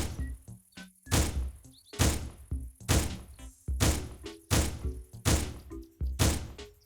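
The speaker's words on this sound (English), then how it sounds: "They have also added a new sound for the Maverick 88 shotgun" Seven loud, evenly spaced shotgun blasts from the Maverick 88 in the game Apocalypse Rising 2, each a sharp boom with a short tail, roughly one per second, heard alone without talk.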